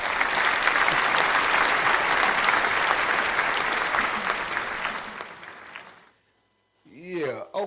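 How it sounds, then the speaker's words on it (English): Loud, dense audience applause fills the first five seconds, fading out to near silence around six seconds, followed by a short burst of synthesized whooshing tones at the end. "Round of applause."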